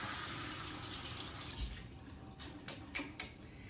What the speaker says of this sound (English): I'm just gonna give it a tiny little bit of rinse.